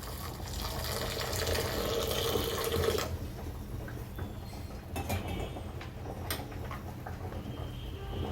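Hot water pours steadily into a bowl of soya chunks for about three seconds, then stops, leaving a quiet room with faint handling sounds.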